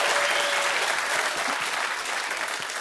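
Loud, dense audience applause at a talk show with Kevin Costner, heard as a sustained, even roar of clapping from a large crowd throughout, slightly easing toward the end.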